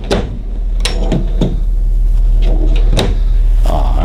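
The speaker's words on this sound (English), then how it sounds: "They come all the way out on the ball bearing drawer glides." Drawers in a pre-owned 2016 Newmar Ventana LE 4002 motorhome slide open on full-extension ball bearing glides, giving several sharp clicks and thuds with a brief rolling rattle, close and fairly loud over a steady low hum.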